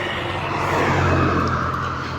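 Street traffic flows steadily past near the Twin Towers in Malaysia, a continuous close rumble of car engines with slight rising revs, loud and unbroken without any talk.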